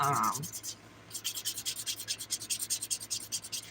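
A fingernail being filed smooth: steady rhythmic rasping strokes, close and crisp, repeating back and forth after a brief pause, with no talking.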